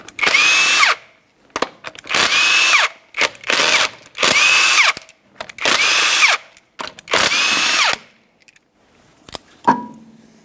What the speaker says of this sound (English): we're going to remove all 5 of these lug nuts using a 19mm so we can remove the wheel